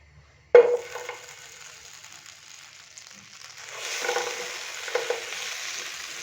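Butter hitting a hot pan with a sudden sharp sizzle, settling into a steady soft frying hiss that swells again as it is stirred while melting, close and alone.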